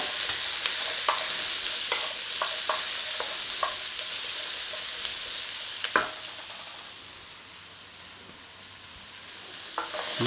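Vegetables for sweet and sour pork sizzle in a hot pan, steady broadband frying hiss with intermittent clacks of stirring, a sharper scrape near the middle, easing slightly before picking up again; no talking.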